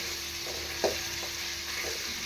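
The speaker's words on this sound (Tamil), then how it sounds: "நல்லா வதங்கணும்" Food sautéing in a pan for egg rice, a soft steady sizzle with a few spoon stirs and scrapes, close and fairly quiet, no talk.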